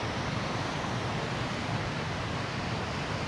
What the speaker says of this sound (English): It's a little bit too windy, a little bit fresh.